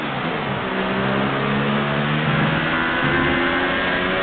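Formula 1 car engines in F1 2018 drone and rev steadily throughout, a continuous loud mid-pitched whine with shifting harmonics as the race car runs through early corners, no voices over it.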